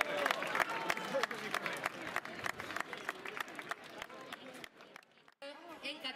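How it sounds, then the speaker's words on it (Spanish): Crowd claps for the women's winner at the finish line of a footrace in Albelda de Iregua, a scattered patter of hands thinning out toward the end, with chatter and an amplified voice over it. "un aplauso fuerte para ella"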